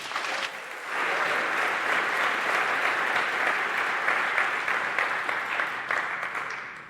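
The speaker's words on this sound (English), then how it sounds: "a big applause for Karsten Nohl" An audience at a hacking talk on OpenRAN 5G bursts into steady, loud applause for security researcher Karsten Nohl, chief scientist at SR Labs in Berlin, sustained for several seconds before tapering slightly.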